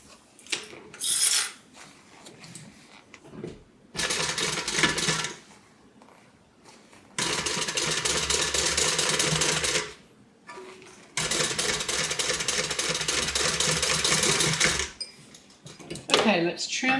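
A sewing machine stitches around the curve of a tote bag in several sustained bursts of rapid, buzzing mechanical chatter separated by pauses, close and fairly loud, with quieter handling sounds between runs.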